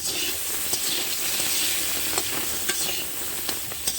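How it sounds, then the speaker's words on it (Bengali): Soya chunks frying in plenty of oil, a loud bright sizzle and hiss throughout, punctuated by occasional spatula taps and scrapes, heard close and without speech. "এইভাবে ভালোভাবে ভেজে নেব।"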